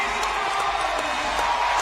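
Arena crowd at the CrossFit Games men's clean and jerk speed ladder final, a dense continuous roar of cheering and whoops at steady volume.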